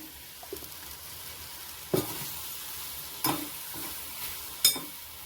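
Strawberries and sugar simmer in a pan over low gas for a strawberry crush, a soft steady sizzle with three sharp spoon-and-pan scrapes spread across the stretch, no talking.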